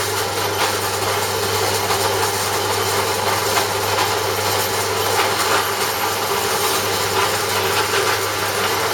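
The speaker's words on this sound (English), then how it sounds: "that way I can drill it on the pillar drill" Loud, continuous mechanical whir of a pillar drill drilling a hole, running steadily at close range, with a constant motor hum throughout.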